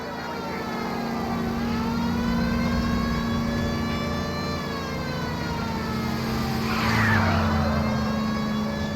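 In a pursuit of a stolen green Kaiser Fraser, a wailing siren rises and falls over a constant engine drone, with a tire skid near the end; loud and sustained throughout.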